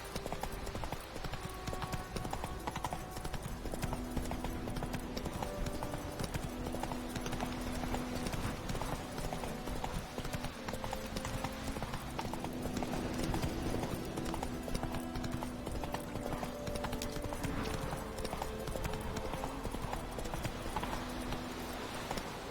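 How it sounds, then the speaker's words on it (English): Galloping hooves of a horse in The Witcher 3 video game, a steady rapid clip-clop rhythm running continuously and close, with an occasional faint whinny and game music layered underneath. "Run, Roach."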